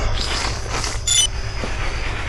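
Amusement park train from the Death Park video game rolling along its track, a steady rumbling rail noise with wheel clatter and a brief high metallic squeal partway through, fairly loud with no voices.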